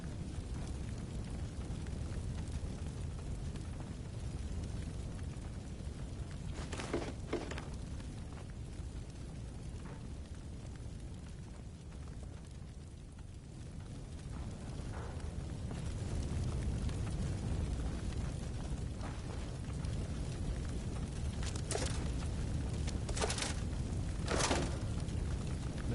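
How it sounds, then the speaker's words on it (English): A fire burns upstairs in the video game Fallout 76, giving a steady low roar with a few sharp pops and crackles and no talk over it. "That's that fire I was hearing."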